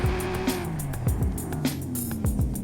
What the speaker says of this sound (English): V10 sounds a little bit weird